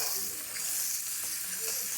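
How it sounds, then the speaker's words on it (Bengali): Onions frying in a pan give a steady, close hiss and sizzle with faint crackles, continuous throughout and without any voices. "তার জন্য কিন্তু পেঁয়াজটা ভালো করে ভাজতে হবে।"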